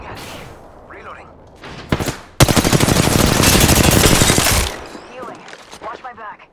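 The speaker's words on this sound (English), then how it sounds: "They're shooting at me." Heavy automatic gunfire from a video game shooter bursts out loud and close in a sustained rapid stream lasting a couple of seconds, preceded by a few separate shots and followed by quieter clatter.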